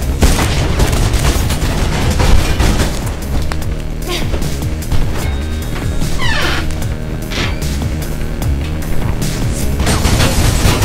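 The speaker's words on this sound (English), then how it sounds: "they had an assault rifle" Assault rifle gunfire in the video game Mirror's Edge comes as loud bursts and booms amid dense, chaotic game sound and music, with shots and crashes scattered throughout.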